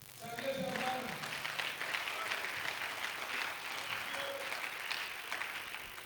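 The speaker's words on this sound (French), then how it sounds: "Applaudissez pour le Seigneur." Church congregation applauding together at a French-language prayer service, a broad steady wash of clapping with voices and cheers mixed in, sustained and fairly dense throughout.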